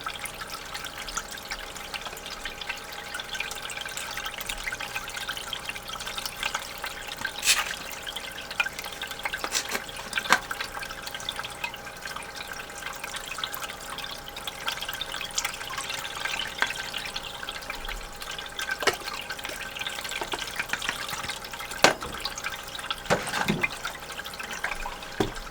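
Water runs and splashes continuously while paydirt is washed for fine gold, a steady liquid rush with occasional drips and sharper splashes throughout.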